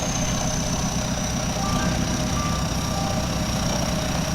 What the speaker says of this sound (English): He's brought some big trucks, yellow trucks, and big bulldozers.